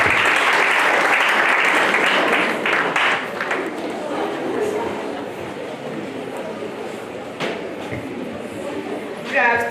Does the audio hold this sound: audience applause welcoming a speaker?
yes